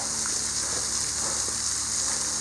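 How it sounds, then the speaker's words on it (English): Waterfall at Pickle Spring and Hickory Canyon, a constant hissing rush of falling water, steady and fairly close with no talking. "So this is the waterfall."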